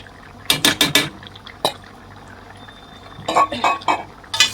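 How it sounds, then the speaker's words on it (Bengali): Pre-fried paneer is added to a methi curry in a pot, marked by several sharp metallic clinks and scrapes of a spoon against cookware in quick bursts, separated by a quiet pause. "তো এবার দিয়ে দিব পনিরটি আমি আগে থেকে ভেজে রাখছিলাম।"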